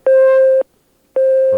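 Telephone busy signal on a failed call attempt: two loud, identical steady tones, each about half a second long, separated by a short gap of silence.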